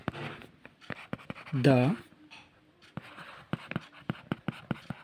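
Pen strokes on paper while a math solution is written out, quick scratchy taps in irregular bursts, close and fairly quiet, with someone briefly speaking between them.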